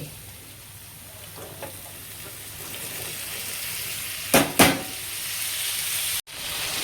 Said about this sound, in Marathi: चला आपण फोडणीमध्ये टाकूया आता हे